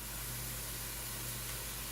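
Meat and tomato puree fry in a pot, giving a steady, even hiss of sizzling that holds without a break, fairly quiet and close, with no voices.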